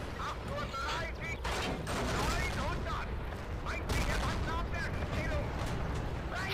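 Tank cannon fire in the WWII video game Steel Fury: Kharkov 1942, from a Tiger tank: heavy booming shots amid a continuous rumble of battle, with voices speaking under the noise.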